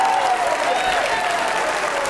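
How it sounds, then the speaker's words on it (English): A church congregation at a revival service claps and shouts praise together, a loud sustained wash of applause and crowd voices with a faint whistle-like tone rising through it. "clap those hands and shout unto the Most High God"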